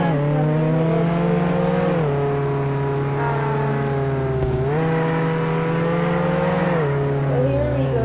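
The Deja, a car in a video game, drives with a steady loud engine drone whose pitch dips and climbs through gear shifts, while a voice talks over it.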